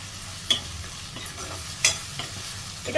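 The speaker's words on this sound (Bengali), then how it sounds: "ভালো করে নাড়বো গ্যাসের টেনটাকে জোরে করে দেবো" Spice masala for dried fish stirred and fried on high flame, a steady close sizzle with a few sharp clinks and scrapes of the spoon against the pan.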